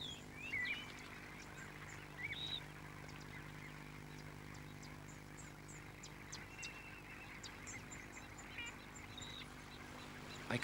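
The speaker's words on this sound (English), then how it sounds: "not far away, the duck and waders are concentrated into the last open channel." Ducks quack in short, scattered calls at some distance, with waders nearby, on the last open channel of a drying lake under a low steady background hum.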